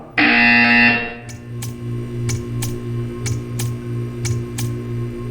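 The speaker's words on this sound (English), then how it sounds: "You will hear a buzzer." Loud, harsh electronic buzzer from the Portal 2 video game sounds for about a second, then gives way to a low hum with sharp regular clicks ticking at an even pace.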